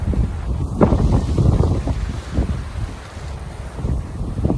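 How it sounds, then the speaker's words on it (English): Wind gusting at a seaside harbor on a high-tide, rainy day, roaring and buffeting the microphone in uneven surges, with a broad rushing noise like surf underneath and no voices. "A little bit of rain and the wind, of course."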